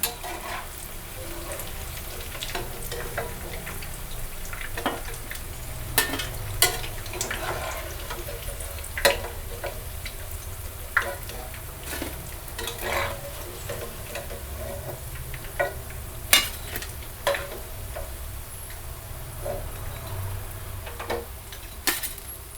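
Jackfruit seed vada deep frying in hot oil, a steady close sizzle with scattered sharp pops and crackles throughout, no talking.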